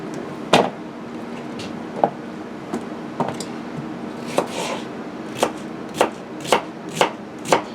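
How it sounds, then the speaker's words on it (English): A kitchen knife slices peeled cucumbers on a cutting board, a series of about a dozen crisp chops, sparse at first and then settling into a quicker, steady rhythm, close and clear with nobody talking. "Now the big ones I cut in half and then slice them up."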